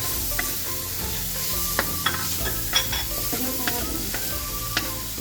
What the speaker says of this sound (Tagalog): Gisa po natin ng ilang seconds. Then, isunod na po natin ang ating sibuyas.